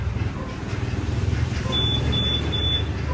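Three quick high electronic chirps from the remote callback on a Suzuki Samurai 155i motorcycle, evenly spaced and fairly close, sounding over a low steady hum of background noise.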